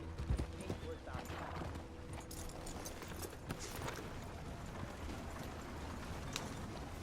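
Horse hooves clip-clop in Red Dead Redemption 2, a steady run of hoofbeats with a brief neigh near the start, heard under someone talking and in-game dialogue.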